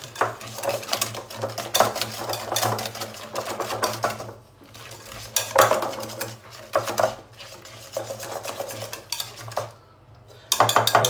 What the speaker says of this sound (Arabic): دابا غنديرو الصفر صافي، غنحركو مزيان